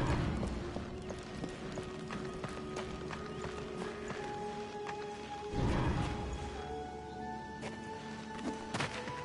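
Horse hooves clip-clopping at a steady run in the video game Darksiders 2, rhythmic thuds under a dense wash of game music and ambience, with a heavier impact midway.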